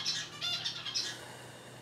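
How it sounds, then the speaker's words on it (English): A pet bird squawks and chirps in a few sharp, shrill bursts close by, then fades to quiet room tone with no talking. "Go away, bird. Go back to in your house."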